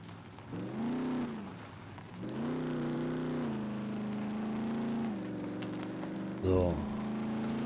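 Car engine in the SCUM survival video game, droning and rising through gear changes with a revving swell near the end, steady and fairly close while a voice talks over parts of it.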